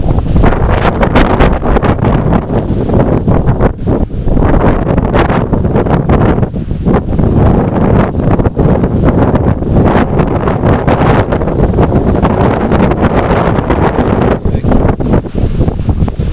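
Strong storm gusts from Storm Benjamin, clocked at 90 km/h, roar continuously against the microphone as loud, buffeting wind noise with no pause across the whole stretch.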